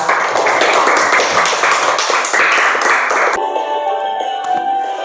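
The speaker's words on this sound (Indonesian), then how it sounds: "tepuk tangan buat kalian" Students in a classroom clap together for a few seconds, brisk close rhythmic hand claps that stop abruptly, followed by quieter room sound with light taps.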